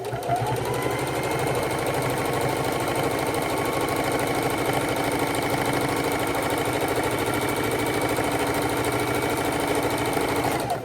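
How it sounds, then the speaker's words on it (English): Sewing machine stitching steadily around the frame of a reverse appliqué quilt with cotton backing and batting, a close continuous mechanical whir and rapid needle chatter running evenly throughout without pause. "I'm going to go ahead and sew around my frame."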